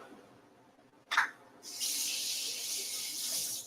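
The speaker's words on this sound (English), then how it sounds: "Rinse it off. Rinse everything off." Water gushes steadily from a kitchen tap during rinsing while cooking, starting with a brief splash and then flowing as a continuous close hiss through to the end, with no talk.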